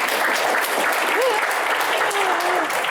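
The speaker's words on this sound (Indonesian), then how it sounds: "Kita berikan tepuk tangan yang paling meriah untuk Bapak Sanetiar Burhanuddin" A television studio audience applauds for the Attorney General of Indonesia, loud dense continuous clapping filling the room, with a few faint voices calling out within it.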